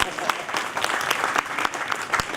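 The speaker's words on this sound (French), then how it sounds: "Lui, on peut l'applaudir" An audience at a Bugatti festival awards ceremony in Molsheim claps in a dense, steady round of applause, with a voice faintly heard over it.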